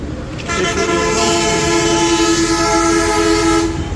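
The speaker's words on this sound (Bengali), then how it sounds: "ঢাকা চট্টগ্রাম রোডের গাড়ির হর্ন" A loud, sustained vehicle horn blares for about three seconds on the Dhaka–Chittagong highway, a deep multi-tone blast that dominates the scene before cutting off.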